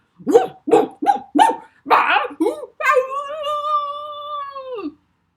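A human voice mimics a dog: four or five sharp yapping barks in a row, then a drawn-out, wavering howl that fades away.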